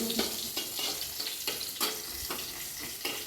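Green chilies hit hot oil with black cumin and spices, sending up a loud, dense sizzle with repeated crackling bursts and stirring scrapes, close and without talk.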